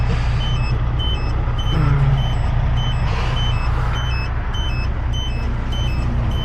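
A truck's reversing alarm beeps at an even rhythm, repeating about a dozen times over a constant loud engine rumble and road noise.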